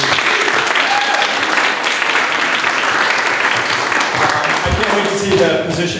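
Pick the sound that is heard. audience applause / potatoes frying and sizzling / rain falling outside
audience applause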